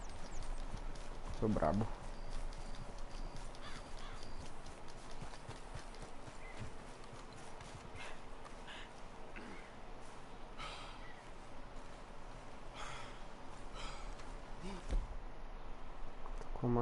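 Steady clip-clop of horse hooves drawing a wagon in Red Dead Redemption 2 continues throughout at a moderate level, with someone talking over it and a snort-like burst near the start.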